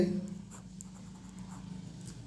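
Chalk or pen writing Bengali letters on a board or page during a first-grade lesson, a series of short faint scratching strokes over a low steady background hum.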